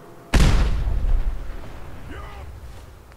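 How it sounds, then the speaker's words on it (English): A grenade blast in the game Fallout 4 hits with a sudden loud boom that rumbles and slowly fades, and someone speaks briefly as it dies away. "throw another grenade"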